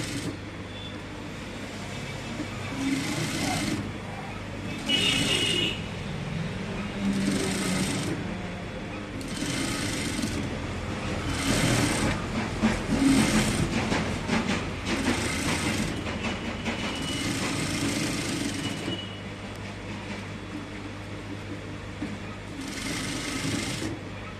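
A sewing machine runs a double line of stitching on cloth in repeated close bursts, steady rapid clatter starting and stopping in a regular rhythm.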